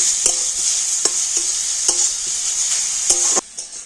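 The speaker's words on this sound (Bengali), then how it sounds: "আর এবারে ঘিয়ের সাথে গাজরটা একটু ভালো করে ভেজে নেব।" Grated carrot fries in hot ghee with a steady, bright sizzle, broken by several sharp scrapes and clicks of a spoon stirring the pan, then a sudden drop in sizzle near the end.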